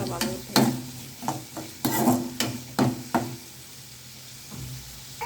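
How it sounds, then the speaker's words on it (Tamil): Vegetables sautéing in a hot pan for samba rava upma, with repeated sharp spoon scrapes and stirring clatters at an uneven rhythm over a soft sizzle, close and loud, settling into quieter frying at the end. "நல்லா வதக்கி விட்டுக்கோங்க."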